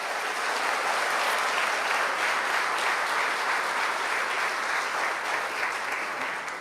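A church congregation applauds loudly and steadily, dense continuous clapping from a large crowd sustained for several seconds.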